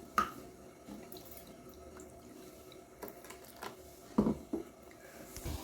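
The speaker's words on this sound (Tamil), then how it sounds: "இன்னும் கூட தண்ணி சேர்த்துக்கலாம்." Faint splashes and drips of water being poured into chutney, a few soft bursts spread unevenly over a quiet background, no talking.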